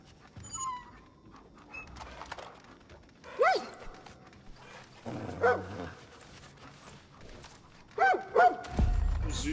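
A dog in the video game Far Cry New Dawn makes a few short bursts of barks and whimpers spread across several seconds, with thuds and game ambience between them.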